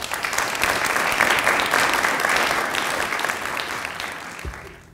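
An academic audience at a University of Dubuque research presentation breaks into steady, full applause, many hands clapping densely for several seconds before tapering off near the end.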